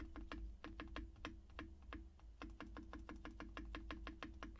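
Fingers type on a Tecware Spectre 75 mechanical keyboard, a close, quiet run of crisp clacking keystrokes in quick rhythmic bursts with a brief pause midway.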